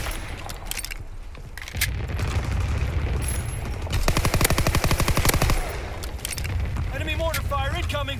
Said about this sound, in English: Anti-aircraft bursts commenced.